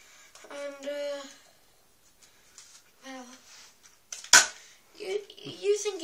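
A Nerf Night Finder toy blaster fires a foam dart with one sharp, loud snap between stretches of someone talking.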